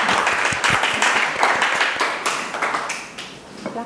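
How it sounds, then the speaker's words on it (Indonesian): An audience at a school learning-community meeting claps in a dense, sustained round of applause lasting several seconds, close and fairly loud, gradually thinning toward the end. "Kasih aplaus dulu"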